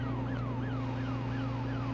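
A police car siren in the Highway Police Simulator video game, a repeating rising and falling electronic wail cycling about every third of a second over a steady engine drone, clear and constant.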